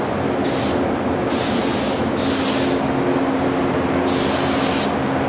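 A second coat of spray paint goes onto raw plastic on a curvy Lumalite part, with loud, close aerosol hissing in several long bursts over a steady background hiss.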